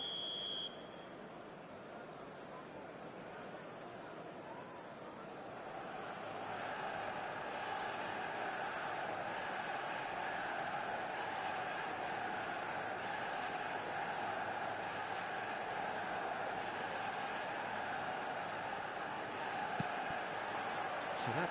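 Stadium crowd noise before kickoff in eFootball 2026: a short beep opens, then the broad roar of the crowd swells after several seconds and stays loud and sustained.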